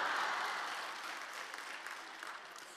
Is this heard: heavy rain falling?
no